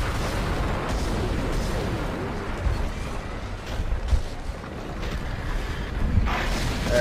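Gunfire from a weapon aimed at enemies in the sci-fi horror game Dead Space, heard as dense, rumbling bursts with a few sharper thumps over a constant loud noisy bed, with no voices.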